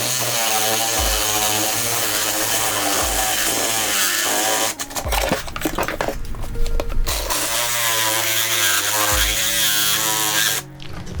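A reciprocating saw cuts through a deer skull in a shop, a loud, steady buzzing drone that runs almost without a break, with a short pause near the middle and a brief drop close to the end.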